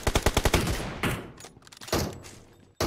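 Rapid automatic gunfire in PUBG Mobile, with an M4 rifle mentioned, opens with a crisp rhythmic burst of about eight shots, followed by scattered later shots and impacts at moderate loudness.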